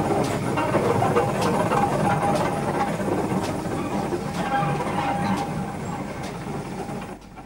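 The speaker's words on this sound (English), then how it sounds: "The passengers milled about in the shed yard as the locomotives were shunted around the depot." Steam locomotives shunted around a 1960s depot shed yard: a steady, loud mechanical rumble with faint hissing and clanking that holds throughout and eases off near the end, with no voices.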